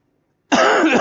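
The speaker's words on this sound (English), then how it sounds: "this cough is really starting to get to me" A single loud, close cough bursts out abruptly after a moment of near silence, rough and sustained for about half a second.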